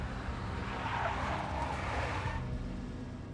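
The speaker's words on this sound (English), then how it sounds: "A big black Mercedes." Car engine and tire skid from a big black Mercedes in the Max Payne video game, a loud steady rumble with a squealing skid in the middle, fading slightly toward the end, no voices.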